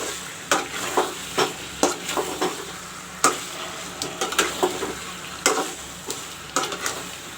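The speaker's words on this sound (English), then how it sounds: "Stir it well." Chicken masala with chili powder sizzling in a pan under repeated stirring, each spoon stroke giving a sharp scrape over a steady fry hiss, close and rhythmic, no voices.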